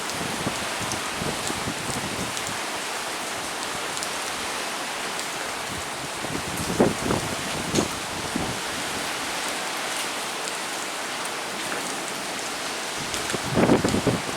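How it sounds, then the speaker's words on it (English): Hurricane Ian's heavy rain pours steadily with a constant hiss, wind gusting now and then over the downpour. "we got rain, you got winds."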